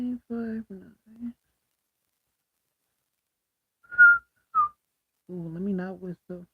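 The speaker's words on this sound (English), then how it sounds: "let me not whistle" A person whistles two short, clear bright notes in the middle of a quiet indoor live stream, with someone talking just before and after.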